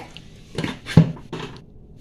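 A metal lid lifted off a cooking pot of vattu puli (tamarind-based relish) simmering in oil, giving a few short clanks and clatters, one sharper knock in the middle, with no talking.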